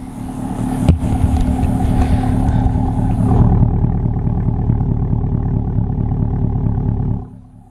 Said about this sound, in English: I love how the Paragon exhaust sounds